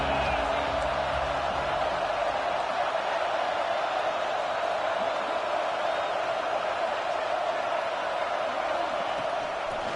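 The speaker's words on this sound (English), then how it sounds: "This crowd trying to make life miserable for this offense." Stadium crowd roaring steadily at a Texas vs Alabama college football game, a dense continuous wall of noise with no breaks across the whole stretch, loud and sustained.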